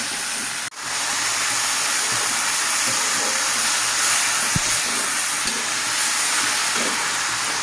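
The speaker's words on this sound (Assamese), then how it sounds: "গেছৰ ফ্লেমটো বঢ়াই লৰাই এইখিনি ভাজিব লাগিব অকণমান সময়।" Shredded cabbage frying over a high gas flame while being stirred: a continuous close hiss and sizzle fills the clip, with a sharp clatter early on and occasional soft scraping knocks.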